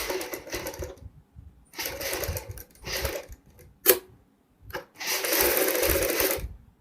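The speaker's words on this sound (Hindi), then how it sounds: "यहाँ पे हमने बुकरम के साथ साथ में सिलाई लगानी है।" A sewing machine stitches buckram onto kurti fabric in several bursts of steady whirring, separated by short pauses and one sharp click, close and fairly loud with no talking.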